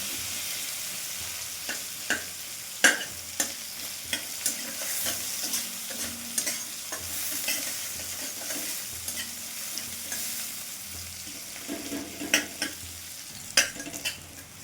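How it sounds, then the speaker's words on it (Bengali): Onions stirred and fried in oil in a pan at close range, with a steady crackling sizzle broken by repeated sharp scrapes and knocks of a spatula throughout. "এই তেলটাতে আমি পেঁয়াজ দিয়ে দিলাম। দিয়ে সামান্য ভেজে নেব"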